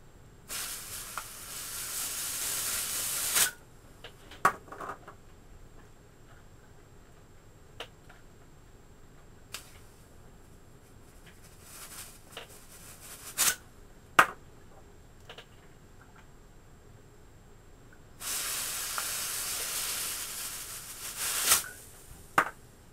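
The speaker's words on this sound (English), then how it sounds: "You can see the nozzle gets very cold from the pressure, the compressed air." Compressed gas from a Mad Bull airsoft shotgun shell hisses in two sustained bursts at the start and end, separated by quiet stretches with scattered sharp clicks and ticks.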